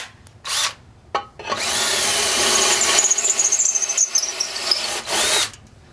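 A unibit step drill bit bores a bigger hole in a workpiece held in a vise for a speaker truss mount, with two brief trigger blips and then a long, loud, high-pitched whining drill run, close up, before stopping.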